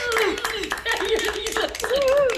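Audience clapping at a ukulele and harmonica camp concert, a short burst of claps with laughter and voices talking over it.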